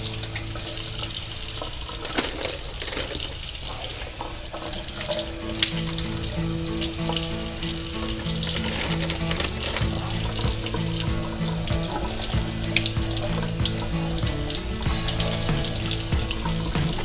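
Tap water runs steadily into a sink while fish (speckled perch, or crappie) is rinsed, a continuous close splashing gush with faint clinks, no voices.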